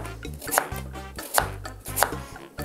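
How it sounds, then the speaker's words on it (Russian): A knife chops carrots into shaped slices on a cutting board, three crisp evenly spaced strikes over a low background hum, close up. "Фигурными ломтиками нарезаю морковь"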